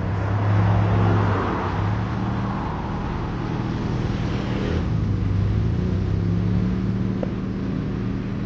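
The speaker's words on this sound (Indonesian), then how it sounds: "kita sekarang bakal coba untuk test ride mobil ini" A modified car's engine runs and rumbles at a steady idle-to-low pitch, heard from close by, with a low engine drone that stays constant throughout without anyone speaking.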